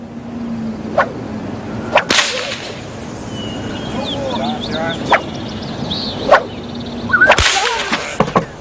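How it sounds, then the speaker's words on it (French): Whip lashes crack sharply at irregular intervals, about six loud snaps over a low steady drone with faint bird-like chirps in between, used as a sound effect. "est condamnée à 30 coups de fouet."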